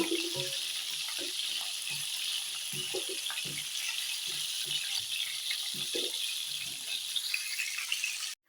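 Potato and cauliflower pieces fry in hot oil with a steady, close hiss, broken by soft stirring knocks and clinks, ending abruptly.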